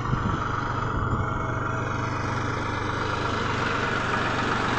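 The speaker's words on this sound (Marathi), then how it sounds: "ह्यो ट्रॅक्टर आलाय विटांचा" An old New Holland tractor hauling a load of bricks runs close by with a steady, unbroken engine drone and low rumble that holds at an even level throughout, with no voices.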